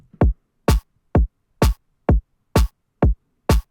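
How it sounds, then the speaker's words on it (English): Punchy kick and snare drums hit in a steady alternating pattern, about eight tight, heavily compressed strikes with no other sound around them. "With heavy compression, the kick and the snare will glue together to sound like this."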